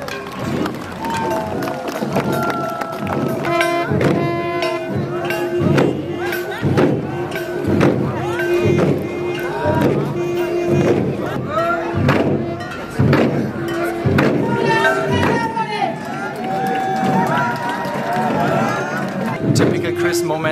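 Massed traditional drums at the Wangala 100 Drums Festival in Meghalaya, India, pound in a steady, loud rhythmic beat with repeated thuds, joined by crowd noise and tonal instruments.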